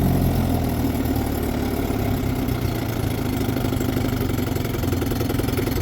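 A 1960 Johnson 5.5 hp outboard engine idling at low throttle, a steady, close, loud putter with a rapid even firing rhythm and slight knocking texture, running alone without talk.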